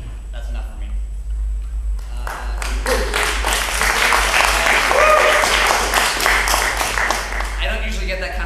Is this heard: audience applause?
yes